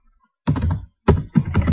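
Computer keyboard keys clatter in two short bursts of rapid close typing, separated by a brief pause, with no voices.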